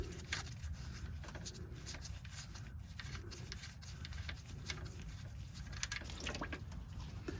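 Engine oil from a Toyota RAV4 V6 3.5L draining into a drain pan, a quiet steady trickle and patter of liquid with faint drips throughout.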